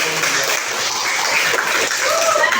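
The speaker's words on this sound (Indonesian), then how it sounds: "Beri tepuk tangan kepada" Classroom students clapping for a group's answer, a dense, even patter of many hands that carries on throughout without a break.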